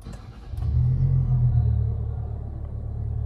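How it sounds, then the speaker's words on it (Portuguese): A 2023 Fiat Pulse Abarth engine fires up, a close, loud low rumble that swells into a roar within the first second, then settles into a strong, steady idle with no talking. "tá visto aí o ronco do Pulse Abarth?"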